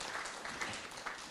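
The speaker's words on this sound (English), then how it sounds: "Round of applause." Audience applause at a book launch, a faint, steady patter of clapping from a room of people, brief and distant-sounding.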